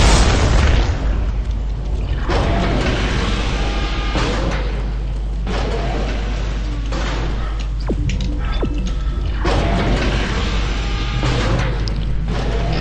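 Loud, continuous booming blasts in Dead Space 3 with rumbling low end, several explosions in quick succession and heavy crashing debris, filling the whole stretch without pause.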